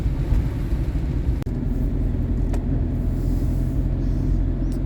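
Steady rumble of road traffic on a country road through a stone village at a crossroads, a continuous low drone with a couple of brief clicks, heard from inside a moving camper van.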